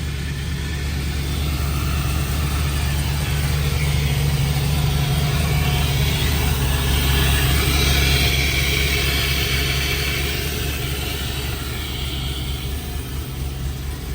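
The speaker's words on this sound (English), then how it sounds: "So let me start the truck and let it air up" A truck engine idles steadily while dual onboard air compressors fill the tanks, a loud, continuous low rumble with a constant mechanical hum and no talk over it.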